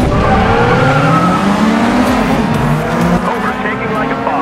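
Race cars roar past in a classic Tokyo street race in a video game, with loud, steady engine drone, rising and falling revving and tire noise throughout.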